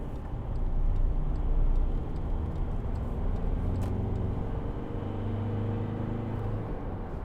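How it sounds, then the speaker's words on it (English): A 2012 Volkswagen Amarok 2.0 BiTDI pickup drives along with a low, steady diesel rumble and road noise from the cabin, its engine tone rising gently as it accelerates. "Not a bad turn of acceleration really for a big beast, a big pickup"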